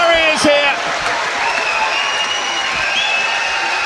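Arena crowd at a heavyweight boxing bout roars and applauds as a fight ends, a loud, sustained wash of cheering and clapping with a brief voice near the start.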